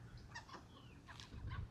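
Backyard chickens, recently fed pumpkin, cluck faintly in a few soft, scattered calls, kept among ducks on a desert homestead.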